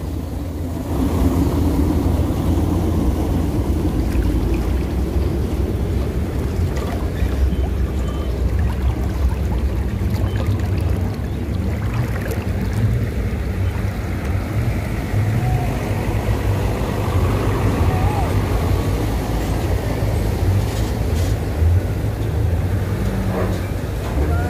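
A two-wheeled vehicle pushes through flood water on the Lintas Timur highway at KM 83, making a loud, unbroken rumble and rush of water that barely changes throughout.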